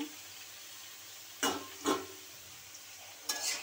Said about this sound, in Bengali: ভাজা হয়ে এলে চাল কুমড়ো ঢেলে দিব।